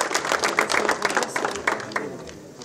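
An audience at a fighters' weigh-in for a kickboxing gala claps in a dense, lively burst that gradually thins and fades toward the end, with faint voices beneath.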